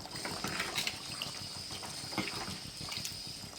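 Prawn curry bubbling in a pot, a soft, close simmer of small irregular pops and gurgles, fairly quiet and steady with no talking.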